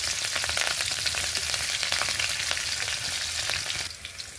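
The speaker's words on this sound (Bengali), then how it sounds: "এখন তেলে আমি কাঁচামরিচ ফোড়ন দিয়ে দিলাম" Green chillies and black cumin seeds tempering in hot oil after eggplant frying, a steady close sizzle and spatter that thins and quiets near the end.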